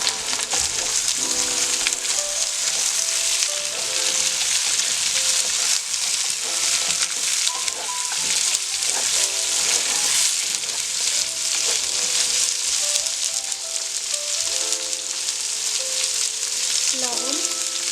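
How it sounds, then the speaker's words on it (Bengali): Jackfruit seeds fry with onion and garlic in a pan, giving a loud, dense, continuous sizzle under light background music. "এখন কাঁঠালের বিচিগুলো একটু ভেজে নেব"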